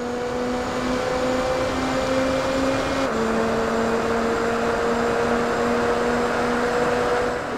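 Race car engine from Gran Turismo 4, apparently a Nissan, holding a steady high-pitched drone that drops slightly in pitch as it shifts midway, loud and continuous with no talk.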